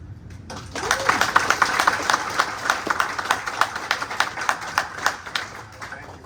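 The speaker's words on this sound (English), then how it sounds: "I would like to have a round of applause for them." An audience at a township council meeting breaks into a dense round of applause that holds steady for several seconds and then tapers off.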